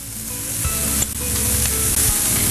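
Capsicum and corn sizzle steadily as they stir-fry in a hot pan, a continuous loud crackle with a few soft knocks of a spoon stirring, no talking.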